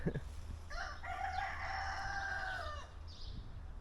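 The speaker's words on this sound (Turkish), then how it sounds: "kara tavuklar, mala tavuklar." A rooster crows loudly nearby, a long drawn-out call, with faint clucking and outdoor background noise around it.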